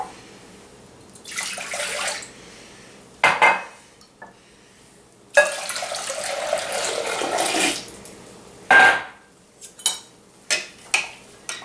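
Starbucks pink drink ingredients being mixed by hand: bursts of pouring, sloshing liquid and clinking utensils against a container, separated by short pauses, close and fairly loud, with no talking.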